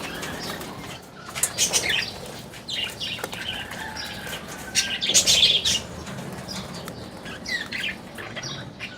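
African lovebirds in cages give bursts of close wing flapping mixed with sharp, repeated chirps and tweets, busy and irregular throughout.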